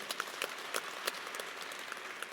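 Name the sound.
audience applause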